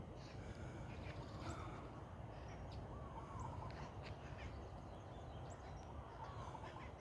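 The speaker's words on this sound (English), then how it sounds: "I can hear the parrots, but I can't see them" Harsh parrot squawks and calls come intermittently from a tree somewhat far off in Hawaii's Big Island, over a steady low rumble of background noise.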